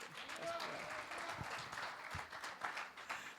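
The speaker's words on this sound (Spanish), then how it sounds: "Es un aplauso a nuestro hermano Luciano" A church congregation breaks into applause during a Spanish-language worship service, with a steady patter of many hands clapping while a voice speaks over it.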